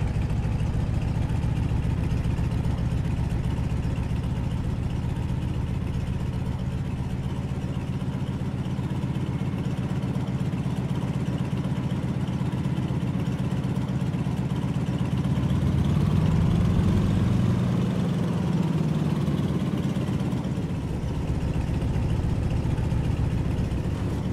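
Aircraft engine in Microsoft Flight idling steadily while taxiing toward the runway, a constant low drone with a slight swell in pitch midway, heard alone without talk.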